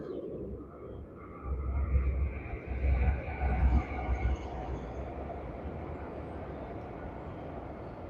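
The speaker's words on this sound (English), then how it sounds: "Another train come in." A train rumbles past near a lake at a carp fishing spot, a low steady rolling swell that rises and falls over a few seconds before settling into a quieter background hum, with faint birdsong.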